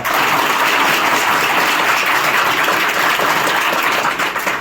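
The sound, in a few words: students clapping for their teachers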